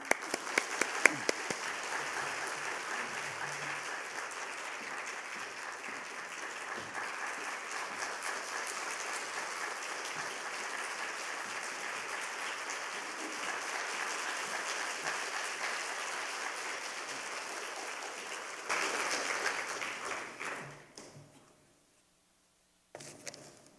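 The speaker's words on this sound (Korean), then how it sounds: "우리 큰 박수로 환영하겠습니다." A church congregation at a Friday service applauds steadily for nearly twenty seconds, the clapping holding at an even level before quickly dying away into near silence.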